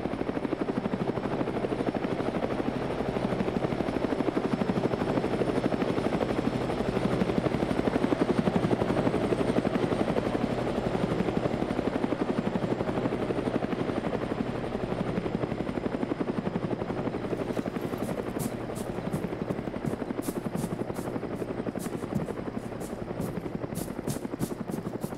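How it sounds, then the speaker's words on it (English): A military helicopter in the video game Operation Flashpoint drones loudly and steadily for the whole stretch, its rotor and engine noise unbroken, with faint clicking near the end. "Got a visual. Helicopter, 300 meters southwest."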